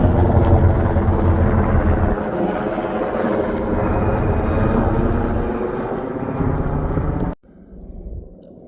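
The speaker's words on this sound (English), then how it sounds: "lots of helicopter action today." A helicopter roars loudly close by over a Pacific Crest Trail hike, a thick throbbing rumble that cuts off abruptly near the end, leaving faint background noise.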